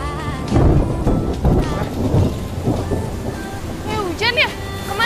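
A thunderstorm with heavy rain drums steadily while low thunder rumbles, and people talk over it with bird-like chirps near the end.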